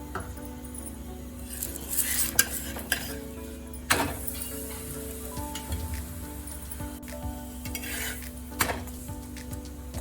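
A leftover-rice paratha frying in oil on a pan, with a soft continuous sizzle under repeated utensil clinks and scraping taps against the pan.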